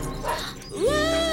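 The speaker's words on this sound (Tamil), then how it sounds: "நாய் குறைக்கிற சத்தம் கேக்குதுடா" A dog lets out a short, high yelping bark that rises in pitch and holds, close by, over a steady background hum.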